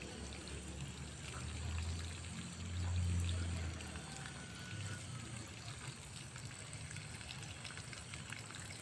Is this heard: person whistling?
no